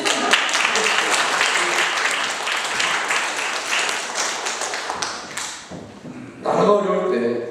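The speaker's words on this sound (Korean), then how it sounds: "박수 치면 다 힘차게 칩니다." A church congregation claps energetically during a Sunday service, dense overlapping hand claps that are loud and steady for about five seconds, then fade as a voice speaks over the room.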